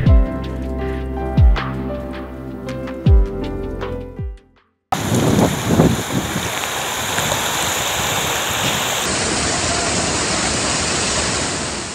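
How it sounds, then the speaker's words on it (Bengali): Heavy rain and wind during Cyclone Remal roar as a loud, continuous wash of noise that follows a few seconds of unrelated musical notes and a brief cut to silence. "ঝড় বৃষ্টি বাতাস এত পরিমাণ বাড়তেছে"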